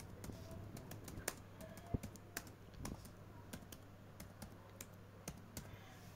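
Keys tapped on a computer keyboard while entering text into a spreadsheet cell, quiet and close with irregular clicks over a steady low hum.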